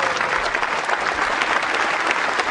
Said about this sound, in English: Give these young men a round of applause.